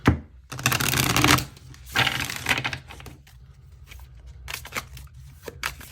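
Affirmation cards shuffled by hand in several bursts of rapid riffling and flicking at close range, broken by short pauses and sharp taps.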